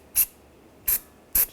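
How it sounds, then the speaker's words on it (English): Three short, crisp hissing bursts of anti-seize sprayed from an aerosol can onto a rear brake hub surface of a 2013-2016 Dodge Dart, spaced evenly apart with quiet pauses between, close to the microphone. "Now I'm just going to spray this down with some anti-seize."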